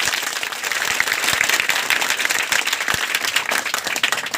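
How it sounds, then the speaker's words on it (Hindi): Loud, sustained applause from students and guests at a ninth-class school prize distribution, many hands clapping steadily with occasional sharper individual claps, no talk over it. "इसके लिए एक बार जोरदार ताली हो जाए"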